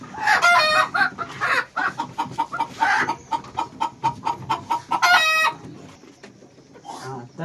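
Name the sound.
village hens clucking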